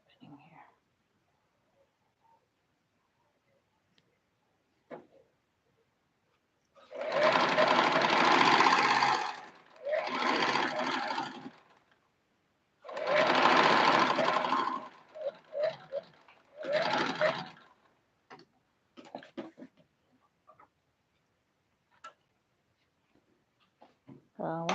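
A sewing machine stitches a head dress sewn from leftover Ankara fabric in four short, close bursts of rapid whirring, separated by pauses of near silence with faint handling noises.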